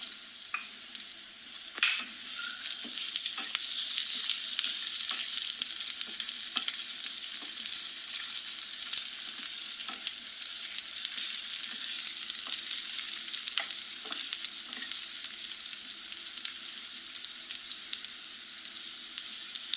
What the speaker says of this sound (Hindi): प्याज हल्के ब्राउन हो गए हैं, अब इसमें अदरक लहसुन शामिल कर देंगे।